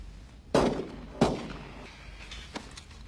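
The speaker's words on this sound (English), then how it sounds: "I heard gunshots." Two sharp gunshots in a film ring out about half a second apart, followed by a fainter third crack, each with a short echoing tail.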